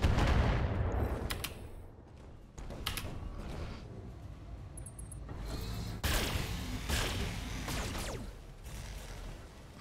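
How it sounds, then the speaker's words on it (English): Weapons fire in a BattleTech mech battle, including autocannon shots, comes as heavy booming impacts and bursts spaced a couple of seconds apart, with mechanical clanks and a rumbling background between them. "Hey, they're actually shooting for once."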